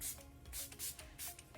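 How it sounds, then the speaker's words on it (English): Milani Make It Last setting spray hisses out in several quick, close bursts with brief gaps between them, soft and breathy with no talking. "Milani Make It Last setting spray"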